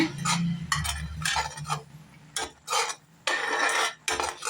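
A spoon scrapes and knocks around a pan of thick ajwain lehyam over low heat in irregular bursts, clinking metal strokes separated by short pauses.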